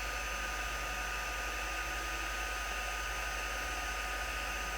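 An embossing heat gun blows steadily for the whole stretch, a constant loud whooshing fan and hot-air drone with an even hum underneath and no breaks.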